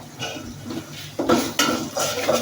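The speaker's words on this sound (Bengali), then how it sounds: "তারপর আবার একটু লাড়া দিচ্ছি যাতে পুড়ে না যায়" Beef khichuri being stirred in a cooking pot, with a spoon scraping and knocking against the metal in several irregular strokes, close and fairly loud, with no talking.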